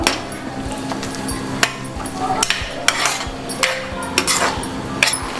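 Beetroot pachadi with chillies is sautéed in a pan, with repeated sharp metallic clinks and scrapes from stirring and a faint sizzle underneath.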